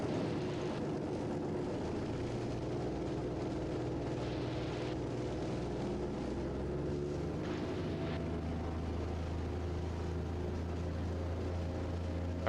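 The engine of the Raptor prototype aircraft drones steadily through a high-speed taxi on runway 17, a loud, continuous low rumble whose pitch shifts and settles lower partway through, with no speech.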